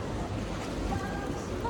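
A boat out on the open sea near Cocogiri Island resort in the Maldives, giving a steady, close rumble of engine and water washing under constant wind buffeting the microphone.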